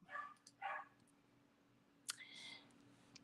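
A small dog barks a few times in the distance, faint and brief, against a quiet room with a low electrical hum.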